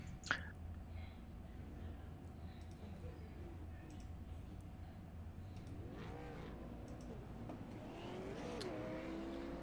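Super late model race cars roll around Irwindale on a pace lap: a steady low engine rumble with rising revs toward the end, fairly faint and distant, with indistinct voices in the background.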